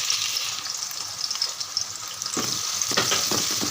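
Two chopped onions hit hot oil in a pan for a masala eggplant curry, a steady hiss of frying that thickens with scraping stirs toward the end, close and alone with no talk.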